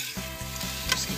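Vegetables sizzling in a hot pan with cumin while a utensil scrapes and stirs through them in repeated strokes, close up, with no talking.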